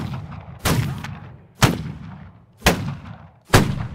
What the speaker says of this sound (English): Ripple fire. Fire.